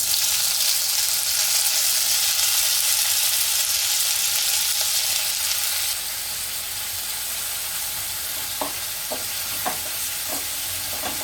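Tomatoes and onions frying in a pan, a steady broadband sizzle throughout that drops slightly in level partway, with a few light clinks of a utensil near the end.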